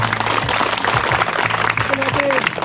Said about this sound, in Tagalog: Palakpakan natin, palakpak!